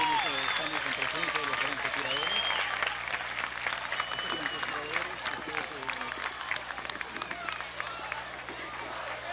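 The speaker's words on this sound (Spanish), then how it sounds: "un fuerte aplauso para todo nuestro Ejército Nacional" A crowd applauds the National Army at a 20 de Julio independence celebration, dense clapping and cheering spread across the whole stretch, mixed with voices and chatter throughout.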